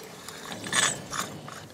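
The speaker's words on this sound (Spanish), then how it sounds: "aquí está un molinito, amigos, de esos que le giraban, miren, para moler el maíz" An old hand-turned corn grinding mill gives off rhythmic mechanical clicks and ratcheting scrapes as it is cranked, close and moderately loud, with no talking.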